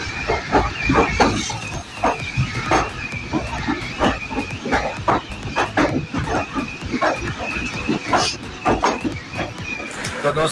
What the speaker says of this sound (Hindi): हमारी ट्रेन अपने निर्धारित समय पर उज्जैन पहुंच चुकी है।